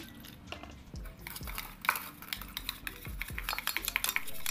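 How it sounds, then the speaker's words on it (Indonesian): Hand stirring of a leak-proof bitumen pool coating mixed with a little water in a container, with repeated scraping, clinking strokes against the vessel in an uneven rhythm, close and moderately loud. "Lalu kita aduk sampai merata."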